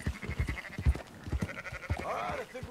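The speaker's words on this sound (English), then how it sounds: "Marston, why don't you leave the sheep to me?" Sheep bleat in the Western game Red Dead Redemption 2, with several short bleats and thuds close by, then a longer wavering bleat near the end.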